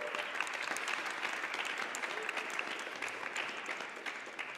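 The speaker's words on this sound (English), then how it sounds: "Can we go one more round of applause for how excellent these guys are?" A concert audience applauds a bassoon ensemble, with dense, sustained clapping heard from within the hall at a moderate level.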